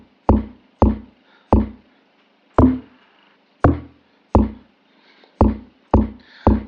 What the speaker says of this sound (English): But this one is just the normal unedited log drum.